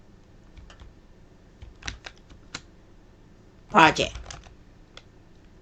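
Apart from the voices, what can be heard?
typing on a computer keyboard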